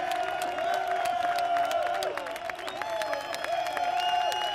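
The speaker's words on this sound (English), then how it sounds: "Listen to the crowd." A race crowd at the MotoGP Aragon round cheers and applauds in a steady, dense roar, with engine-like tones whining through the noise.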